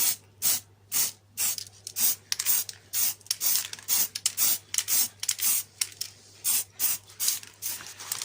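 Light coats of spray paint hiss from a can in a steady run of short, evenly spaced bursts, each lasting about half a second, close and fairly loud.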